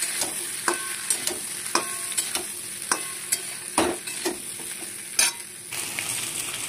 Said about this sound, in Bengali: এবার আমগুলোকে ভালো করে একটুখানি তেলের সাথে কষিয়ে নেবো।